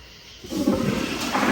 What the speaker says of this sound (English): we'll go for a third flush here